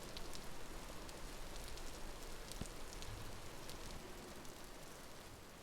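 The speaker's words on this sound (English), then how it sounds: "Ooh, it sounds like rain." Steady rain falling in the Vintage Story video game, a dense continuous hiss of drops spread evenly through the whole stretch with scattered brighter patters, moderately loud and with no voices.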